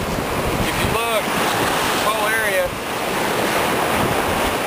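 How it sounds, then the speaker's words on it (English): Gulf of Mexico surf washing up on a Destin, Florida beach, a steady loud roar of breaking waves mixed with buffeting wind noise on the microphone, with faint bird-like chirps and no talk. "This is where the waves wash up, their highest point."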